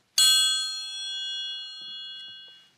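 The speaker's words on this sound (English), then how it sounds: "A triangle." A triangle is struck once, giving a bright metallic ring that shimmers and slowly fades away over a couple of seconds.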